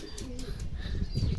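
Racing pigeons coo softly just after arriving home from a training race in Laguna, a brief low murmuring call with faint chirps over quiet background.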